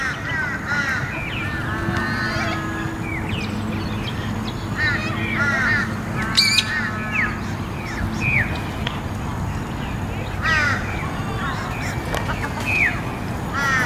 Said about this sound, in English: These are Corellas. Type of cockatoo.